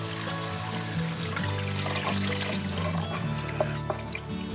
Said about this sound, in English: And we're going to give it a quart of water.